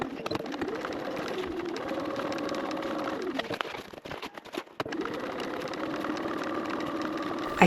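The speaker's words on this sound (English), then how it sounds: "So we want to top stitch through this section here, so through the front bottom and your seam allowance with a 1/8 inch seam allowance." A sewing machine runs steadily, top stitching a 1/8 inch seam through the front bottom panel and seam allowance of a Bag 934 backpack, a continuous close hum with a brief pause midway before stitching resumes.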